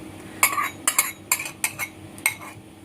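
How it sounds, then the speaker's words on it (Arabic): Eggs go into a bowl of flour and spice mixture for crispy cauliflower batter, with five or six sharp clinks of utensils against the bowl in an uneven rhythm, close and alone without talk. "هنحط بقى البيض."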